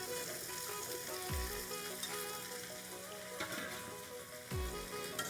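Soya chunks and potatoes fry in a pan with a steady crackling sizzle, broken by a few dull thuds and scrapes as a spoon stirs them, close and continuous with no talking.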